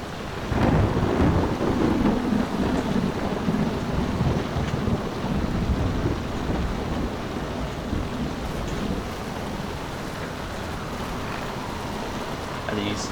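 A stormy sea in the game Tempest, with a steady roar of rain and wind washing over everything and low rumbling thunder, loud and continuous throughout with no clear breaks.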